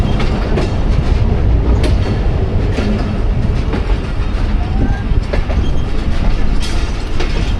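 A passenger train on the Rawalpindi to Lahore line rumbles loudly close by, with steady clickety-clack of wheels over rail joints and occasional metallic squeals.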